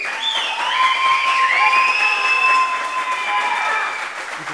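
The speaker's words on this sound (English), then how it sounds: "everybody, a round of applause." A crowd applauds steadily after a table match, a continuous wash of clapping that stays fairly loud throughout, overlaid by sustained tonal whistling or ringing lines, with no distinct voice standing out.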